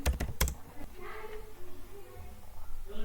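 Typing on a computer keyboard in a console: a few close, crisp key clicks at the start, then quieter taps under a low background hum, with a voice speaking briefly in between.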